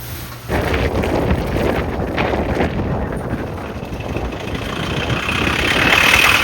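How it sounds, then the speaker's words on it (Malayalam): Tractor engine idling steadily near a paddy field where harvested grain is being bagged, a low continuous rumble that starts after a brief quiet moment, with wind noise, no talk. "അവിടെ ട്രാക്ടർ നിൽപ്പുണ്ട് കണ്ടോ"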